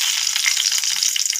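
Dried red chillies sizzle and crackle in hot oil in a pan, a steady, close frying hiss with no voices.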